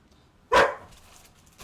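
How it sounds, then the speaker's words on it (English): A dog gives a single sharp, fairly close bark in a quiet room, followed by a faint shorter sound near the end; no one speaks. "This dog is barking to Peggy, which means it normally has to go out."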